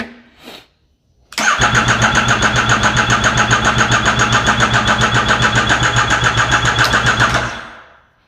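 A Yamaha FZ-09 motorcycle with a flashed ECU, airbox mod and Sprint filter cranks briefly, then catches and runs at a loud, steady, pulsing idle for several seconds before cutting off.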